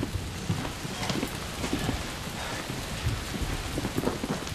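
Rain falls steadily, a dense even hiss of drops pattering on surfaces, moderately close and continuous without any voices.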